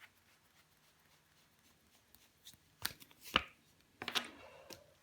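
Tarot cards are handled and laid down in a few quick, soft bursts of shuffling and slapping, quiet at first then louder, in a calm room.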